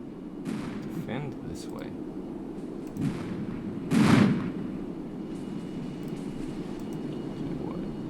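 Tanks firing at infantry in a military video game, a few scattered booming shots over a low rumbling background, one heavier blast near the middle, with a voice speaking briefly.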